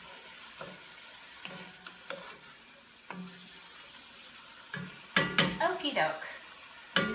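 Ground beef browning with purple shallots in a pan for chili, a soft low sizzle under scattered clinks and scrapes of utensils stirring against the pan, with brief talk in the middle.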